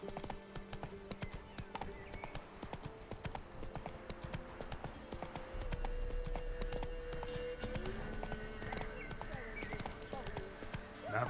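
The horse Roach's hooves clip-clop steadily on the ground in The Witcher 3, a continuous rhythmic clatter heard under character dialogue and ambient game sound.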